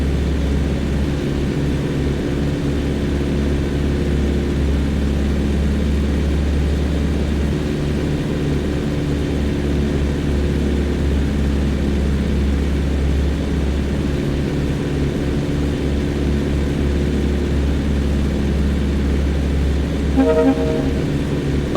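Steady, loud airplane engine drone from Flight Simulator X as the aircraft approaches a runway at reduced throttle, a constant hum with no talking and a brief tonal beep near the end.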